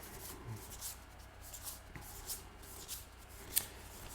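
Oracle cards being handled and searched through make soft, faint shuffling and rubbing sounds in quiet bursts, with one sharp tap near the end.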